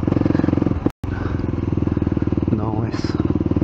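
A vehicle engine runs roughly after being filled with the wrong fuel, a loud close pulsing throb with an uneven beat, briefly cut out, while people talk over it.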